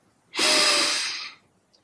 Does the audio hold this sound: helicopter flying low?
no